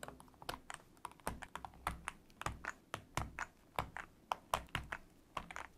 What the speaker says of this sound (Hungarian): Kupakok switchek eltávolításával végeztünk